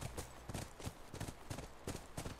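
Horse hooves in the video game The Last of Us clop in a steady, fairly quick rhythm of distinct beats, faint and close, with no talking over them.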